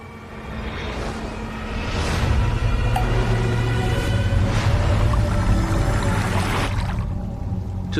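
An underground river rushes in a steady, loud roar that swells slightly and never lets up, with no voices over it.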